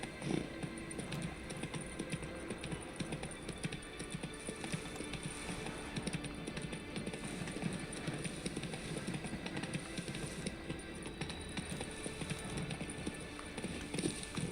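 The horse Roach gallops in The Witcher 3: Wild Hunt, with steady, fast clip-clopping hoofbeats running the whole time, fairly faint under a busy wash of game ambience.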